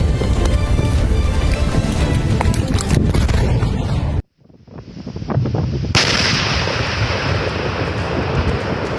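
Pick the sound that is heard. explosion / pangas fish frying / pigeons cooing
explosion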